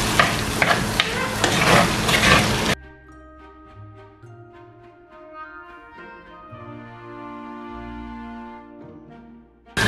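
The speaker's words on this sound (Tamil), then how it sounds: "இந்த எண்ணெயில் நல்லா பொரிய விடணும்." Jaffna-style spicy chicken gizzard curry fries in hot oil with a loud, dense, close sizzle for about three seconds, then cuts to quieter tonal background sound.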